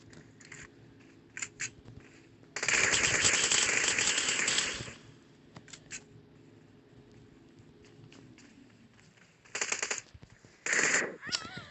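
Gunfire in a shooter video game, scattered single shots, a sustained burst of rapid automatic fire, then further short bursts near the end, crisp and close with no talk during the shooting.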